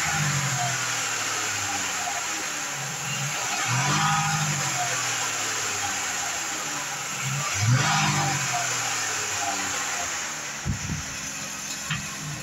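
The engine of a 2014 Ram Promaster 3500 van with 64,500 miles runs steadily at idle, a low continuous hum close by, with a couple of gentle rises in pitch and some light clunks toward the end.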